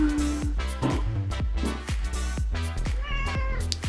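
A cat meows loudly and repeatedly at close range, with several drawn-out meows following one another over a steady background.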